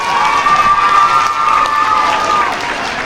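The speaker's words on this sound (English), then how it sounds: "So, round of applause." Crowd cheering and clapping at a school's first Arbor Day ceremony, a steady wash of young voices and applause with a thin whistling tone running through it for about two and a half seconds before easing slightly.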